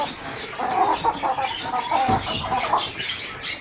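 Chickens on a small farm that also keeps quail, clucking and murmuring in short bursts nearby, with soft rustling and a few sharper calls throughout.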